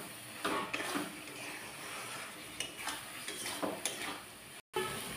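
Prawns coated in salt and turmeric frying in a pan for a malai prawn curry, giving a continuous bright sizzle with several scraping stirs and a brief dropout near the end.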